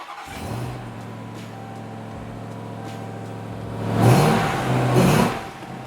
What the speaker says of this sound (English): I will start the car up